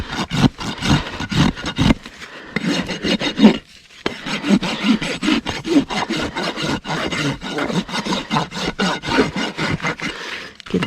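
A farrier's rasp files and smooths the bevel of a mustang's trimmed hoof, giving steady, close, repeated rough strokes with one brief pause, and no talking.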